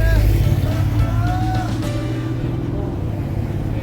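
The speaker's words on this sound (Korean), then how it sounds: "역시 일단 차는 많아" Cars passing on a busy street beside a drive-through café, a loud, close rumble of engines and tyres that swells at the start and then settles into steady traffic noise.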